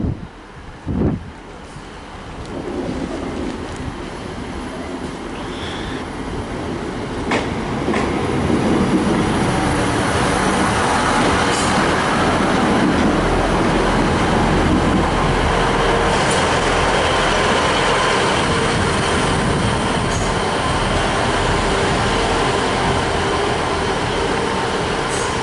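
An East Midlands Railway train from Leicester rolls into platform 4 at Lincoln station. A low rumble and rushing wheel noise swell after a few seconds and then hold loud and steady, with faint squeals and clicks on the rails.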